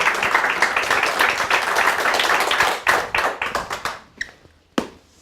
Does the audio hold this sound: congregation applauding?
yes